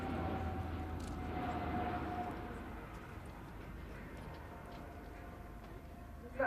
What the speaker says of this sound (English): The commander is now repositioning the aircraft in order to come from the opposite direction, increasing the speed